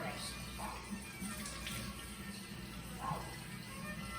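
Warm tap water running steadily into a sink during handwashing, a soft continuous splashing stream heard close with no voices.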